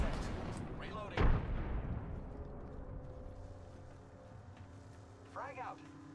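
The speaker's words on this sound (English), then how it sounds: "Frag grenade sent." A frag grenade blast rings out in a shooter video game, one sharp loud burst near the start over steady background gunfire and game noise, with a brief chirping effect toward the end.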